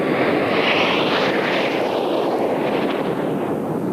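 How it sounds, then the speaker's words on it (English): A Lancaster bomber flies past at an air show, a loud continuous roar of its piston engines filling the air without pause. "and from that into the Lancaster bomber, in tribute to the wartime pilots who brought home their crippled aircraft"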